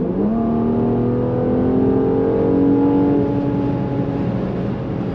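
A Mercedes-AMG GLC 43 Coupe engine revs up under throttle, a loud close steady drone whose pitch climbs and holds for several seconds without any voices.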